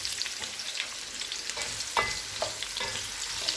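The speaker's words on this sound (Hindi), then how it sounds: "अब इसमें 1 अदद कटा हुआ प्याज डालेंगे" Chopped onion fries in hot cooking oil, a continuous close sizzle with faint crackles and a few light scraping stirs, steady and moderately quiet with no voices.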